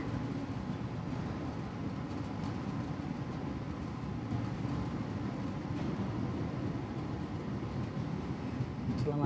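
Heard from inside, a new Argo Bromo Anggrek passenger train runs along the rails in Indonesia with a constant low rumble and steady rhythmic clatter, moderately loud, with no talking.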